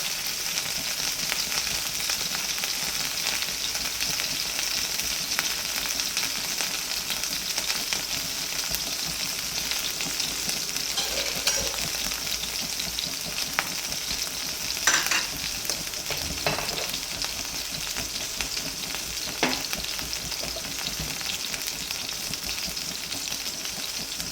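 Chicken cooks in a pan over a low flame for grilled chicken with black pepper sauce, giving an even, continuous sizzle and hiss with a few faint stirring clicks and no voices.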